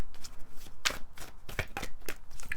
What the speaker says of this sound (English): based on how the cards are being shuffled, whether they're jumping